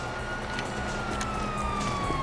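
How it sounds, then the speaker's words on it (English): Police sirens in Grand Theft Auto V wail on steadily with a slowly gliding tone, fairly distant and continuous over a rumbling game backdrop. "Sirens."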